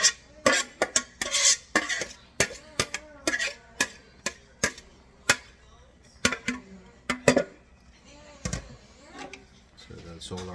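A utensil scrapes and clatters against a pan in a rapid, irregular series of sharp metallic knocks as cooked vegetables are stirred into a pancit bihon stir-fry with chicken and shrimp, close and crisp with faint talk between strokes.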